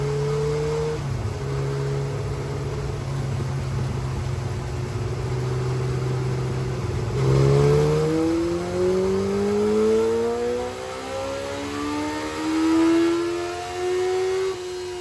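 A custom electric motorcycle spins up on a dyno test bench, a steady whirring motor tone with rising harmonic sweeps as it accelerates through a pull, loud and close with no talking.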